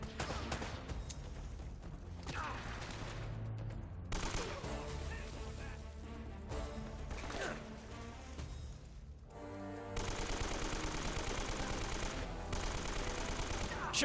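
Gunfire in the video game Uncharted: Drake's Fortune, rapid bursts of shots and sustained automatic fire over layered game sound, fairly faint throughout, growing denser toward the end.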